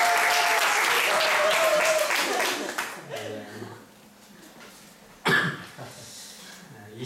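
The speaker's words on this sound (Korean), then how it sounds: "박수 한번 합시다." A church congregation claps for a member: a loud burst of applause for about three seconds that trails off into scattered claps, a cough and quiet room noise.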